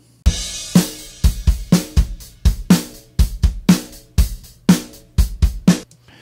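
A recorded drum kit blended with triggered drum samples plays a driving beat. The kick and snare hits are loud, tight and evenly spaced, alone with no talking.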